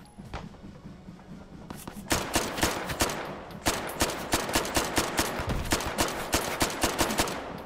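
Semi-automatic gunfire in the VR game Hot Dogs, Horseshoes & Hand Grenades, a fast, even string of loud close shots that begins after a quieter lead-in and keeps firing in a steady rhythm to the end.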